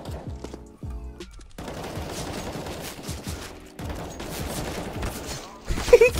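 Video-game gunfire in rapid bursts and single shots, sharp and close, with short gaps between volleys and a louder flurry at the end.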